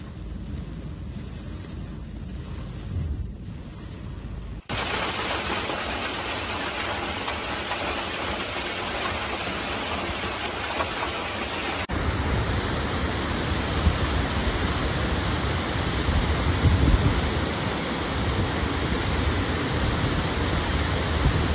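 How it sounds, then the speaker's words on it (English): Severe hailstorm pounding a flooded city street in Rome, a dense, steady roar of hail and heavy rain hitting surfaces, continuous and loud throughout with a sharp jump in intensity partway through and no talk. "a severe hailstorm swept through the city, flooding the streets, paralyzing traffic"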